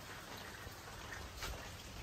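Rain falling around a wooden cottage at a vineyard in Nashik, a faint, even hiss of steady drops with no voices over it.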